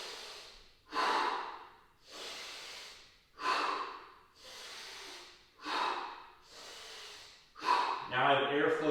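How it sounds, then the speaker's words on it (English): Deep belly breathing during a mobility flow, seven slow, close, forceful breaths alternating in and out in a steady rhythm, followed by a brief bit of voice at the end. "From here, we're going to go belly breath."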